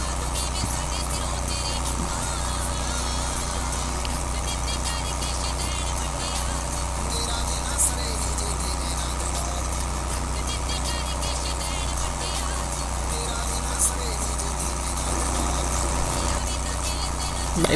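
HMT 5911 tractor engine idling and running steadily in Farming Simulator 22 while working a 12 ft rotavator, a continuous mid-pitched rumble with vibration throughout, close and even in level.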